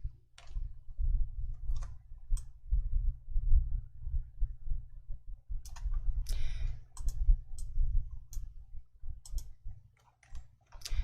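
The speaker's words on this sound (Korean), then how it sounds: "컨트롤 1 눌러주세요." Ctrl+1 pressed on a computer keyboard while formatting cells in an Excel spreadsheet: scattered light key clicks, sparse at first and then quicker, sit faintly over a low steady room hum with no talking.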